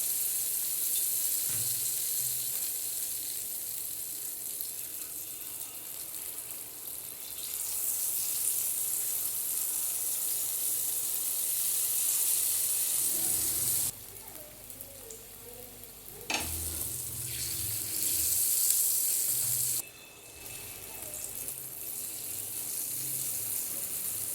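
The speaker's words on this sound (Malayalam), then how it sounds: "ഈ ഒരു എണ്ണ ചൂടായി വരുമ്പോഴേക്കും നമുക്ക് ഈ ഒരു ബാറ്ററി ഇതിലേക്ക് ഒഴിച്ചു കൊടുക്കാം" Unniyappam batter poured into hot oil sizzles and bubbles steadily and close, the hiss cutting out briefly twice and returning, with faint handling clinks and no talk.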